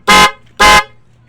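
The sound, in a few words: car horn honking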